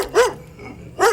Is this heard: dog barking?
yes